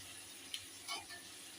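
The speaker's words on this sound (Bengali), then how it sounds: "আমি পরিমাণ মতো জল দিয়ে দিচ্ছি" Water is poured into a pot of egg curry, a soft, faint steady trickle with a few brief splashes and bubbling bursts over low kitchen background hiss.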